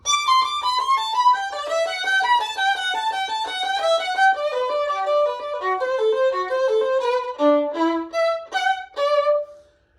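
Solo violin playing an orchestra audition passage in a one-separate, three-slurred bowing pattern: a quick continuous run of clear bowed notes stepping up and down, ending on a few separate strokes.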